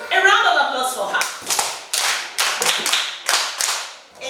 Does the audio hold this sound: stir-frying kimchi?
no